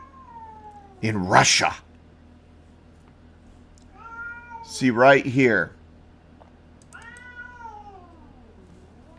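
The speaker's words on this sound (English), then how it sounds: "And my kitty's meowing." A cat meows loudly twice, long drawn-out cries, with a fainter third meow and a person speaking briefly nearby.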